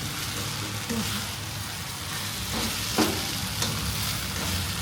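Spring roll filling stir-fried in a pan, a steady sizzle with soft scraping of the spatula throughout, close and continuous with no talking.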